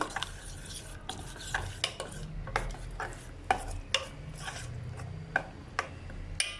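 Spoon repeatedly scraping and knocking through thick dosa batter with masala in a bowl, an uneven run of close clinks and soft stirring strokes, with no voices.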